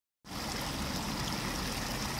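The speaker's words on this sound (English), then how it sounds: "Back here, got a little small creek." A small creek, locally called a branch, runs behind a pizza restaurant, giving a steady, full rushing wash of water that starts abruptly and holds constant, close and fairly loud, with no voices.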